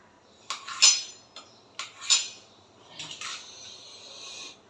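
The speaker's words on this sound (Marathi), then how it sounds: "असे बटाटे बारीक बारीक कापा करून आता ते कापून घेणार आहे" A knife cutting potatoes into small pieces against a metal plate or pan at home, giving a few bright, ringing metallic clinks spaced about a second apart, close and clear with no talk.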